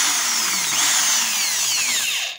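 A Tramontina electric drill whines steadily at high pitch, its tone sliding slightly as it runs, then cuts off abruptly at the end.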